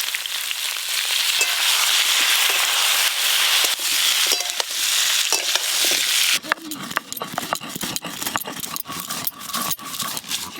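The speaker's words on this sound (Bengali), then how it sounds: "খিচুড়ির জন্য আলু আর ফুলকপি ভালো করে ভেজে নেব" Potatoes and cauliflower fry in hot mustard oil with a loud, dense sizzle for several seconds, then the hiss thins as clattering stirring and metallic scrapes take over nearby.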